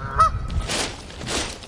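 Geese give a few loud, nasal honks in quick succession, close by with no other sound around them.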